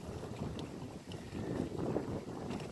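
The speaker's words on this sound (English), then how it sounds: "The wind is pushing against my chest." Steady broadband wind buffeting on the microphone aboard a small boat running into a headwind under a Minn Kota Ultrex trolling motor, a continuous rushing roar with low rumble and no talking.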